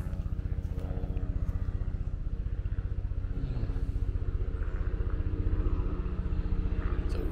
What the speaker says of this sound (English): weird sounding helicopter